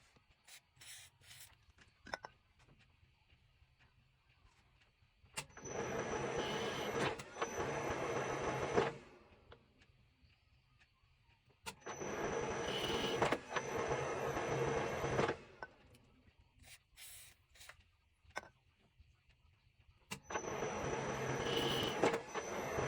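A 1A616 lathe cuts a thread with the half nut engaged, giving three long passes of grinding, rasping machining noise, each lasting a few seconds, separated by quieter gaps with faint clicks.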